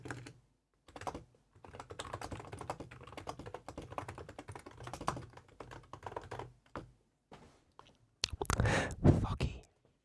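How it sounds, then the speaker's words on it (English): Bursts of rapid typing on a computer keyboard with ceramic keycaps, close and crisp clacks in uneven runs separated by short pauses, ending in a louder cluster of heavier taps and knocks. "And there's ceramic, so they sound like this."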